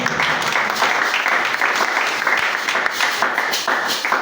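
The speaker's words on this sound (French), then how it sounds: "Est-ce qu'on peut acclamer le Seigneur?" A church congregation claps and cheers in praise of the Lord, a dense, loud applause that holds steady from start to finish.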